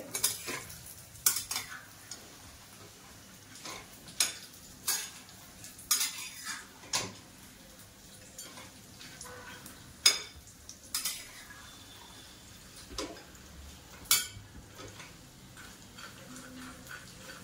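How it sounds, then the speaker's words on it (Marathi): Peanuts being stirred and roasted until crisp in a pan over medium heat for kanda poha chivda, with irregular scraping and clinking strokes of a spatula against the metal pan, close and fairly quiet, no talking. "छान असे शेंगदाणे कडक करून घेऊया आपण खरपूस असे."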